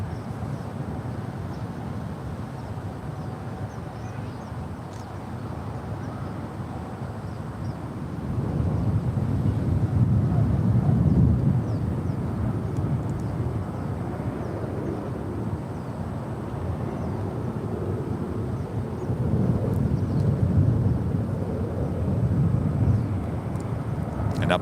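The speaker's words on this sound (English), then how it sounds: "Turkish Airlines Flight 19Y. Yankee heading to Istanbul. It's a 787-9 Dreamliner, now rolling down." Turkish Airlines Boeing 787-9 Dreamliner rolling down runway 28 left at San Francisco for Istanbul, a steady low jet roar that swells partway through and stays heavy, with some wind buffeting.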